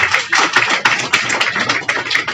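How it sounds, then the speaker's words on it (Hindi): Applause breaks out for the Bihar state branch president at an IMA gathering, a short burst of uneven hand clapping from a modest group that comes in sharp, scattered taps. "अमरकांत झा जी के लिए जरा एक बार तालियां हो जाए"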